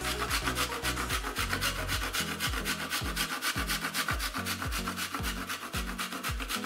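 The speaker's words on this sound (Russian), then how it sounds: "осталось только натереть на мелкой терке шоколад." Chocolate is grated on a fine grater for a no-bake homemade cake, giving steady rapid rasping strokes that carry on without a break, close up, with no speech.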